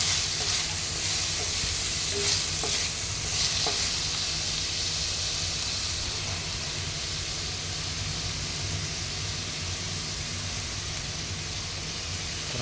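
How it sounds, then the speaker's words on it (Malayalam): Chopped onions sizzle steadily in hot oil in a pan for a curry, with occasional scrapes and clacks of stirring over a continuous loud hiss. "ഇത് നമുക്ക് നല്ലതുപോലെ ഇളക്കി കൊടുക്കാം സവാള നല്ലതുപോലെ മൂത്ത് വരണം"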